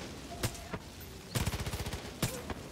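Gunfire in the video game Far Cry New Dawn: a single shot, then a rapid automatic burst of about a dozen rounds, then two more isolated shots, loud and close with no talking.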